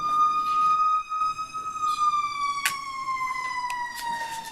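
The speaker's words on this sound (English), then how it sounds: "I'm letting the ambulance go by." An ambulance siren wails in one long, steady tone that slowly falls in pitch as it passes, fairly loud and clear over quiet background with some scattered clicks and knocks.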